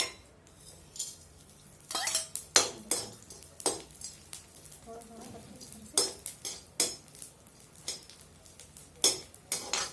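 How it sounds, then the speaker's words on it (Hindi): Gond roasting in ghee in a pan, with a metal spoon scraping and clinking against the pan in repeated bursts over a faint background sizzle. "अब 1/2 टेबल स्पून घी डालकर मैं इसको, ये जो हमने गोंद किया था ना, इसको भी भून लूंगी"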